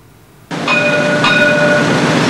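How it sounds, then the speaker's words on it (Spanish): A tram on rails in Zaragoza rushes in abruptly and passes close by, a loud steady roar of wheels with faint high metallic squeals ringing over it. "Los vecinos de las viviendas cercanas al recorrido del tranvía en Zaragoza temen ahora que este verano en sus casas haya excesivo ruido"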